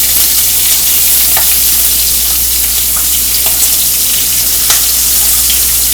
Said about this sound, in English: So bacon's just cooking on up.